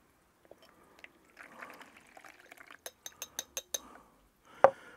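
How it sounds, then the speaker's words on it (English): Fermenting tomato seed mixture is poured away through a little sieve, giving a soft close trickle followed by a quick run of light, evenly spaced clinks and a final louder knock. "pour it away through a little sieve."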